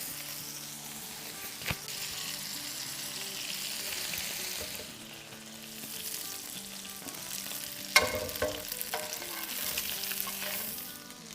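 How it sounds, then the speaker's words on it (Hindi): Royal kababs fry in fat, mayo and butter in a pan, giving a steady close sizzle with occasional stirring scrapes and a sharp clink near the end. "उसी में फ्राई हो रही है"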